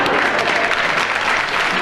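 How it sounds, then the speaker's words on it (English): Studio audience applause during the panel game Just A Minute, a dense, steady wash of clapping filling the whole moment at full volume with no voices over it. "the audience have applauded your thought and your comment"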